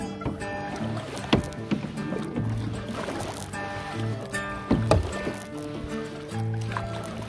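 Canoe paddling on Lake Louise, with repeated paddle strokes and water sounds close by under a busy outdoor background, plus occasional voices and background music-like tones.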